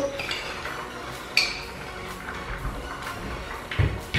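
A spoon scrapes and clinks against a bowl while mixing cream into rice, steady soft stirring with a couple of sharper taps.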